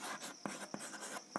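Pen or chalk writing out a ratio and proportion math problem during a class, with steady scratchy strokes and a few sharper taps as letters and numbers are formed, close and fairly quiet with no voice.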